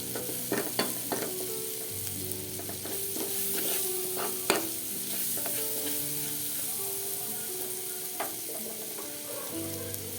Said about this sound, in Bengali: পরিমাণ মতো লবণ দিয়ে দেব আবার একটু নেড়ে চেড়ে নেব